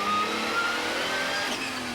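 Porsche GT race car at Silverstone accelerating past, a loud continuous engine roar with a rising whine that fades slightly toward the end.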